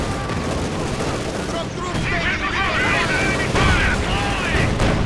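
Company of Heroes 2 battle with T-34 tanks, grenades and a Sturmpanzer, thick continuous rattling gunfire and booming explosions, loud and dense throughout with a voice partly under the din.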